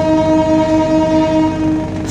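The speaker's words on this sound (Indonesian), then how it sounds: "KA Singasari sudah sampai di Stasiun Gombong, Kabupaten Kebumen jam 23:33 menit" The KA Singasari passenger train sounds a sustained, loud horn at Gombong station in Kebumen at night, a steady harmonic blast held for about two seconds over a low rumble, close and alone.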